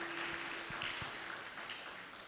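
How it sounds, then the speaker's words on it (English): Faint applause from the audience at a Sterling Leadership Series gathering, a soft, steady patter of hands that runs through the whole moment with no talking over it. "can we give him a round of applause?"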